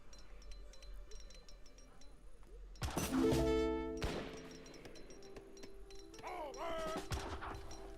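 Artillery fire in an Age of Empires 3 Definitive Edition tournament match: a loud burst of heavy booming blasts rises mid-clip over ambient battle noise, then lingers into a softer rumble with scattered game effects.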